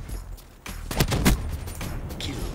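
Gunfire in a shooter video game: a few sharp, loud shots in quick succession over a low game-ambience rumble, with no talking.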